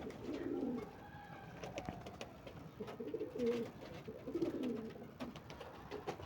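Domestic pigeons in a rooftop loft, just let out after being shut in, coo softly and steadily over a faint outdoor background, with scattered soft flutters and small knocks.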